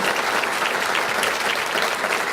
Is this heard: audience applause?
yes